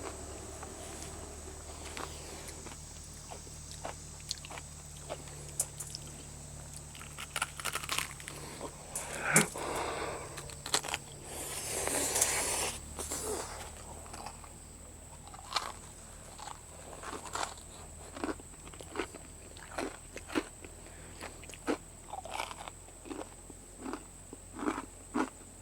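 Crunchy fried maypop poppers, a wild edible, are bitten and chewed up close, giving scattered soft crackles and crunches over a steady faint hiss with a high insect-like whine.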